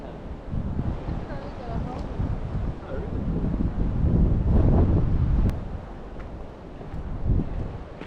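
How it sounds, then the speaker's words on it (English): Gusty wind buffets the microphone on a fishing shore with a low, rumbling roar that swells and eases throughout, up close and constant. "Windy and wild on this side"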